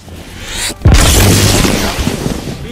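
A fragmentation grenade in Halo CE detonates with a sudden loud boom after a short lead-in, followed by a long, rumbling explosion tail.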